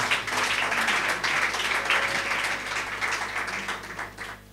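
A church congregation breaks into sustained applause and acclamation during a sermon on marriage, loud and steady before fading near the end, with voices mixed into the clapping.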